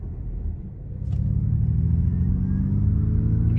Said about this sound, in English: You can hear that propulsion sound right now.